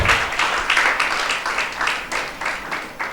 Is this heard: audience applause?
yes